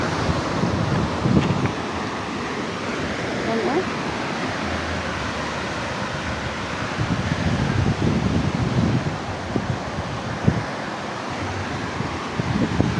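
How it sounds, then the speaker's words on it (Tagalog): Big monsoon-driven ocean waves crash and roll steadily onto a littered beach while strong wind buffets the microphone, a continuous loud roar without a break. "yan lakas ng alon laki ng alon eh"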